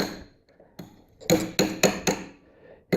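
A screwdriver or small chisel tapped against a metal lock tab on the steering stem nut of a Yamaha Raptor 700 ATV, giving a few faint light taps followed by five loud, sharp metallic strikes close by.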